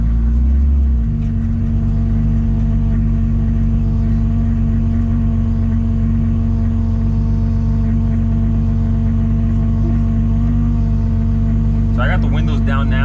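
Toyota Supra with a full exhaust driving, a steady deep engine drone and rumble from inside the car, holding a constant loud tone with a brief rise near the end.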